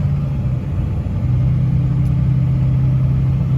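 A 2003-2007 Chevy Silverado pickup drives along a road, heard from inside as a steady, loud, low engine and road rumble with no talking.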